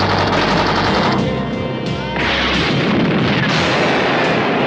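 Dense, continuous movie gunfire and explosions in a night attack on an armored car making a delivery, with rapid machine-gun bursts and booming blasts layered loudly throughout, no talking.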